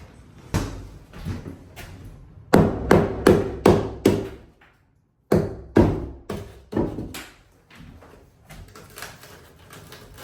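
Repeated sharp metal hammer strikes punching out electrical box knockouts during a house remodel, in quick bursts, several blows in a row, a brief pause, then another rapid series, close and loud.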